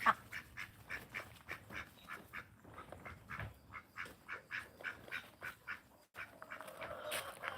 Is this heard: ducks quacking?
yes